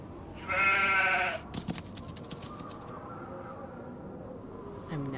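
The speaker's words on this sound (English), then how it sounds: "Sheep!" A single sheep bleats in the video game Nancy Drew: The Haunting of Castle Malloy: one loud, wavering bleat about a second long, followed by soft clicks and quiet ambient background.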